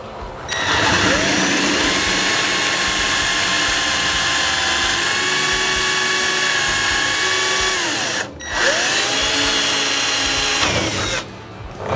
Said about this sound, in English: we're going to go ahead and continue to remove these rivets from the wing to remove the aileron